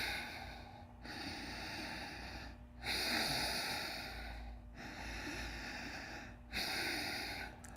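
Slow, deliberate breaths drawn in and out while holding a yoga headstand, four long cycles with each inhale rising a little louder, close and alone with no talk.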